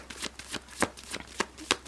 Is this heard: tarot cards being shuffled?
yes